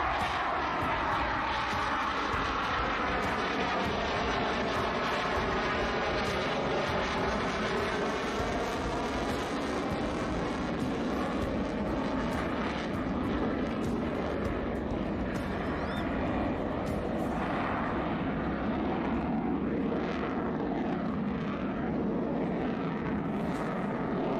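A Dassault Rafale fighter jet flying a high-G demonstration, a loud, sustained engine roar that fills the whole stretch, with its pitch sweeping and shifting as the aircraft passes and maneuvers.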